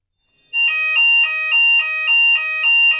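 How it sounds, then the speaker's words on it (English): An electric fire bell rings continuously in a steady metallic clang, loud and close, pulsing slightly in regular beats after a brief silent start. "You might hear a local fire bell within buildings."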